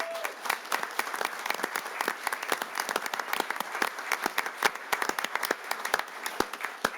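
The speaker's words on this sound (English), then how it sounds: "get your hands warmed up because we're going to be doing a lot of clapping tonight" Audience applause in a city council chamber during a police department recognition: steady, moderately loud clapping from a modest crowd, with individual claps distinct throughout and no talking.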